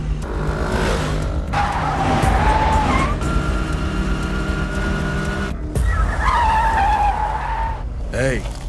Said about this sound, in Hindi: भाई वो स्कूटर से भाग रहा है।